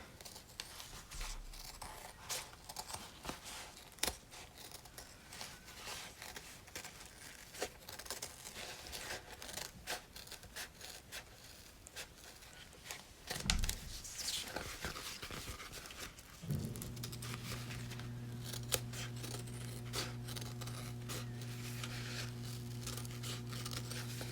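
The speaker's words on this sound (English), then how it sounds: "I just use my regular scissors or my fabric scissors." Fabric scissors trim around a sewn pencil purse, giving a long run of close, crisp snipping and crinkling cuts, followed by a steady low hum in the background.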